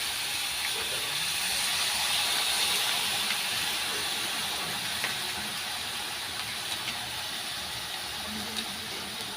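Soy sauce poured into a hot pan of eggplant and tofu for adobong talong sizzles in a loud, steady, close hiss that holds for several seconds with no talking.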